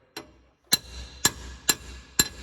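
A hammer strikes a part on a 1985 square body truck five times, sharp metallic blows spaced about half a second apart, each ringing briefly, close and loud, with no talking.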